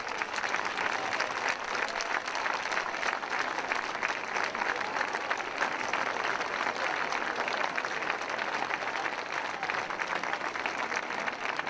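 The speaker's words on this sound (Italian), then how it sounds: "L'applauso, fatevi sentire, il vincitore." A hall audience applauds the winner of a literary prize: steady, dense clapping from a large crowd holds evenly for the full length, with no break and no voices rising above it.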